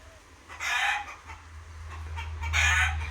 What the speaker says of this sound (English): I don't know why the chickens are going crazy.